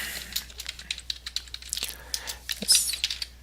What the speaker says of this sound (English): I need to type in the URL